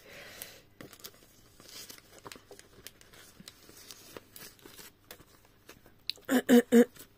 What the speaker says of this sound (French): Il va falloir découper sur le côté